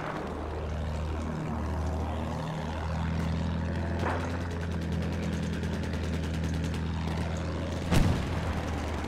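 A low-flying propeller plane in the Battlefield 1 game drones steadily overhead, its engine pitch sweeping down and back up as it passes, amid continuous battlefield rumble and a sharp explosion-like thump near the end.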